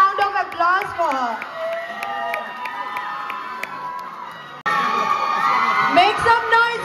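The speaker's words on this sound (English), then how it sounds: "Please have a round of applause for her." A crowd cheering and whooping for a contestant at a festival celebration in Shillong, Meghalaya, with high shouts and scattered claps swelling loudly near the end over steady crowd noise.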